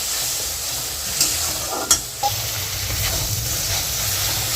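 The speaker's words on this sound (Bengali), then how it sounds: "দেখুন মশলাটা কষানো হচ্ছে" Spice masala for chholar dal, with a green chilli added, being stir-fried in a pan: a steady low sizzle runs throughout, with a few brief clinks of a spoon against the pan near the middle and no talk.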